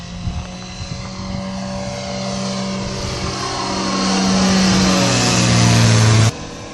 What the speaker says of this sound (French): voilà notre avion qui passe là